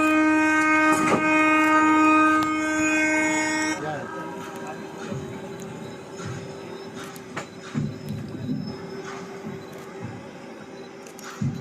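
A 1.5 km long-haul freight train departs New Khurja station at an inaugural flag-off, a loud sustained horn sounding first and then giving way to low rumbling rail noise and clatter.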